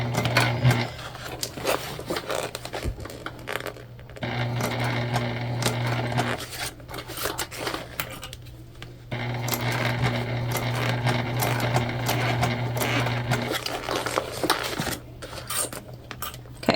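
Sewing machine stitching a fabric candy bag, a steady mechanical whir running close and loud in long bursts, broken by brief pauses where the fabric is adjusted, with light clattering over the motor hum.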